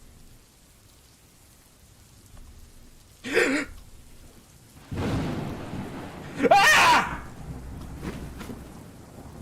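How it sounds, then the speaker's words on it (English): Rain patters steadily while thunder rumbles and cracks in a few loud bursts; a person gives a startled short cry amid the storm. "Thunder rumbling through my house and into the earth shakes through my body"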